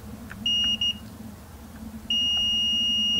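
A digital multimeter in continuity mode sounding steady high-pitched beeps while probing a GTX 1060 graphics card under repair, two short beeps followed by a longer sustained tone, close and clear.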